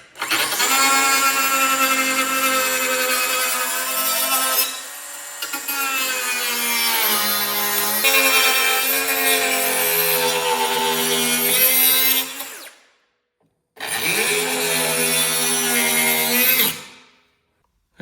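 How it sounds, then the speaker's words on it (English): A 3-inch power saw cuts through a metal exhaust pipe for a dual suppressor exhaust on a Polaris RZR XP, a loud steady ringing grind that runs for about twelve seconds, stops, then resumes briefly. "make a good cut with the 3-inch saw"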